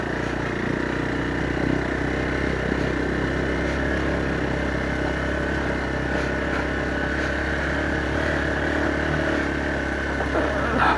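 A scooter engine drones steadily along a narrow sandy mountain road beside a steep drop, a continuous mid-pitched motor hum that stays even and moderately loud without clear revving or fading.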